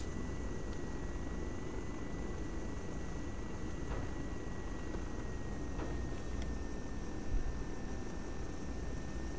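A helicopter in the military simulation game Arma 3 drones steadily throughout with a constant rotor and engine hum, fairly faint and unchanging, with no voices.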